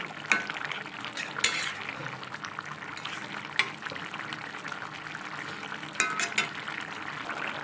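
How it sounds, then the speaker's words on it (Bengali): Fish is added to a pot of fish curry with green peas as it simmers, giving a steady close bubbling and frying hiss with a few sharp clinks of a utensil against the pot and no talk. "এইবারে মাছটা ঢেলে দেবো এর মধ্যে মাছটা দিয়ে ভালো করে ফুটিয়ে নেব"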